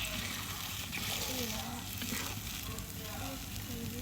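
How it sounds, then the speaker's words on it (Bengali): Liquid gravy goes into a pan of well-fried curry spices with black eggplant for a fish curry, producing a loud, steady, close sizzle that runs throughout, with a faint voice murmuring underneath. "এখন আমি ঝোল দিয়ে দিব, ঝোলটা একটু বেশিই দিব"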